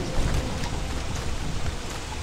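Steady rain in the video game Don't Starve, a dense broadband hiss of falling drops with faint low rumbling, continuous and fairly loud with no talk.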